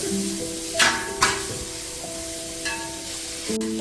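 Beetroot and carrot sautéing in a pan over full flame, a steady loud sizzle with a few clanking stirs of a utensil against the pan.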